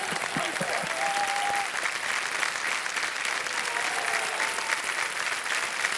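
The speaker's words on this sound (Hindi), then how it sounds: "तालियां बज जाए इनके लिए" Studio audience applause for a contestant on a TV quiz show, a thick even roar of clapping held steadily for six seconds, with a brief tonal sound early on.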